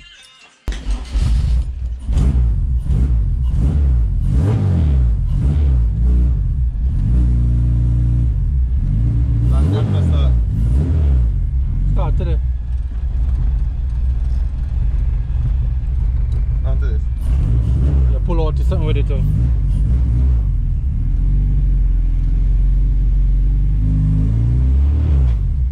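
A Honda Civic EK hatchback on a test drive, its engine and road rumble droning steadily up close the whole way, with a person talking over it throughout.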